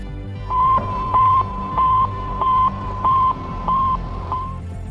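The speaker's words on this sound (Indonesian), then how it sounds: "Sputnik memancarkan gelombang yang bunyinya seperti ini." A steady electronic beep from the Sputnik satellite's radio signal, near one pitch, repeats about seven times at even intervals over a low, noisy radio hiss.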